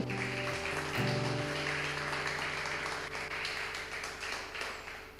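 Sustained applause from a church congregation, steady and dense throughout, with sustained musical tones underneath, fairly loud and continuous with no talking.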